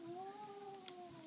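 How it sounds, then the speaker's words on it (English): A male cat meows for attention indoors, one long, drawn-out, wavering cry that rises and falls steadily, faint and close, with a soft click partway through. "my cat is interrupting my video because he wants attention"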